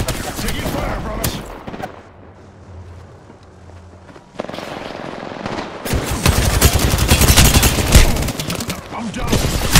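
Gunfire in Apex Legends: bursts of rapid automatic shots crackle close and loud, dropping to a quieter lull before a sudden heavy, dense barrage of continuous firing, with brief speech in between.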